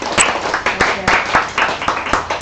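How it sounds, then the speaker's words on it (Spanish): A small audience at an art event applauds with close, brisk clapping in uneven surges, steady and fairly loud throughout. "aplauso para ella."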